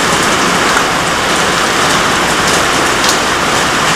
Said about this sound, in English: It's friggin' raining. Freaking raining its ass off on here.